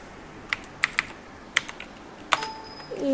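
Computer keyboard typing while entering text in a motion graphics design program: several sharp, separate keystrokes spaced irregularly, close and fairly loud, with a faint tone near the end.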